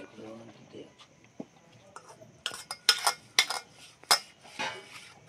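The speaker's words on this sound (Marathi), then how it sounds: "थोडस आता तुपू लावून घेते त्या भांड्याला" Utensils clink and scrape in a home kitchen as a cooking pot is greased with ghee for making ukadiche modak, a few sharp metallic taps and knocks near the end, with someone talking quietly at the start.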